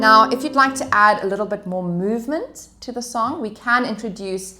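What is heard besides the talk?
None of the usual background noises is heard.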